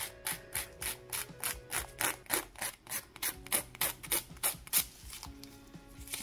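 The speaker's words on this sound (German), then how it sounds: "Jetzt muss ich das Ganze nur noch in Form feilen." A nail file rasps a press-on nail tip into shape in a series of rhythmic back-and-forth strokes, each stroke a distinct scratchy burst, close and clear with no talking.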